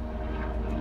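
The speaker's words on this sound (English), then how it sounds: "Sorry about the helicopter." A helicopter passes overhead during a roadside car inspection, a steady, rumbling low drone that fills the whole short moment with no voices.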